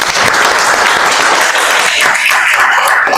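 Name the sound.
audience applause after a class presentation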